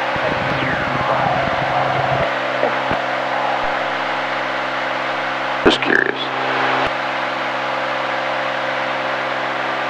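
Steady drone of a Cirrus SR20 single-engine piston airplane in flight, heard from inside the cockpit as a constant hum, with brief clicks and radio or intercom talk over it.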